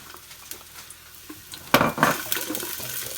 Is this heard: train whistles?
no